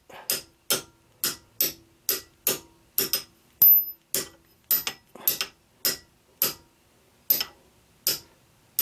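A sprocket being tapped onto a shaft, about fifteen sharp metallic taps in a fairly even rhythm, close and clear against near silence.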